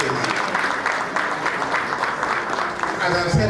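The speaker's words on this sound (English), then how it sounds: "A round of applause for past executive, please." Audience applause at a gala in Ottawa, a steady roomful of clapping hands, dense and continuous, fairly close, without any talk over it.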